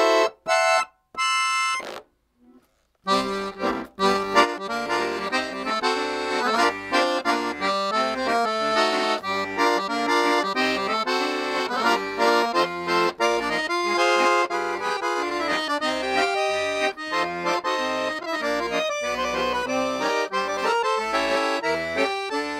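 A Bugari Armando bayan accordion plays on the piccolo and clarinet register with dry tuning, a short stuttering chord and a brief pause before a busy, continuous solo passage of bright reedy notes.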